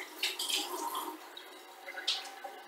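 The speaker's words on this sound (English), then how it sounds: "I'm going to go wash my hand off real quick." Water runs from a tap as hands are washed, a soft uneven splashing with a couple of brighter gushes, close by and with no talking.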